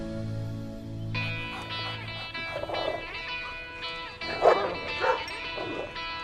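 Small dog barking at a bigger dog during a first meeting, with several sharp, close yips and barks in uneven bursts over a steady tonal hum in the background.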